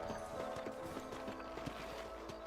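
Rhythmic clip-clop of horse hooves in the Western video game Red Dead Redemption, steady close trotting steps against a low ambient game soundtrack.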